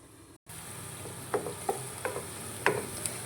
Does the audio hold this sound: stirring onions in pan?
yes